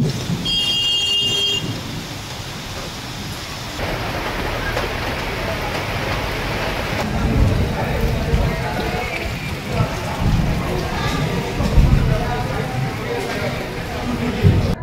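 Heavy monsoon rain pours in Balasore with water flooding into a hospital, a dense steady hiss with deeper rumbling swells, while a voice talks over it.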